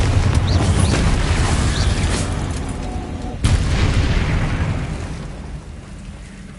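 The Confringo fire-blast spell explodes in the Hogwarts Legacy video game, with loud booming blasts and a sharp burst midway that trails off into a fading rumble.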